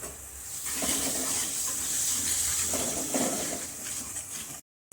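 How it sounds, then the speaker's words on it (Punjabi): Squeezed-out pumpkin water is poured from a vessel into a dish of masala while cooking aloo kofta curry, giving a short, close, continuous splashing trickle that stops abruptly. "ਜਿਹੜਾ ਆਪਾਂ ਕੱਦੂਆਂ ਨੂੰ ਨਚੋੜਿਆ ਸੀ ਤੇ ਉਹਦਾ ਪਾਣੀ ਪਾ ਦਵਾਂਗੇ"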